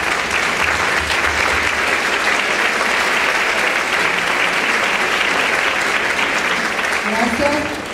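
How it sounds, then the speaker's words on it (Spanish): Loud, sustained audience applause fills a theatre hall, a dense, even clatter of many hands that holds steady for the whole eight seconds without pause. "un aplauso a Luana."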